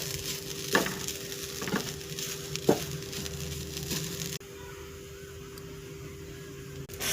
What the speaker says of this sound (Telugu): కొంచెం పచ్చి స్మెల్ పోయేలాగా ఫ్రై చేసుకోవాలండి.